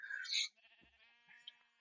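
A sheep bleating in a blocky sandbox survival game, one short wavering bleat after a brief higher chirping sound, fairly faint and alone.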